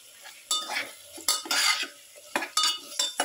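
Food is stirred in a pan after salt goes in, with a spoon scraping and clinking against the metal in irregular bursts over a soft sizzle, close by and without talk.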